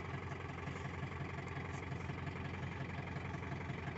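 A tractor engine drones steadily at low volume while working a wet field, a constant muffled rumble with no distinct changes and no talking.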